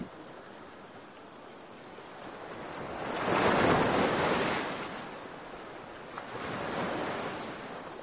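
Ocean waves surge onto a rocky tropical coastline, a broad swelling wash rising to a loud peak midway and a second softer surge near the end, with steady wind noise underneath and no voices.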